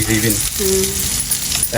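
Pangas fish fries in a pan with a continuous close sizzle, overlaid by a few tonal clinks and hums from the utensils.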